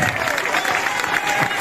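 A crowd claps together in dense, continuous applause at a giants' gathering in Caldes de Malavella, with voices mixed in the background throughout.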